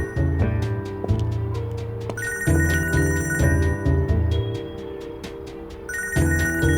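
A phone rings in a domestic drama scene, a repeating electronic ringtone with bright tonal bursts playing alone and fairly loud, no one speaking.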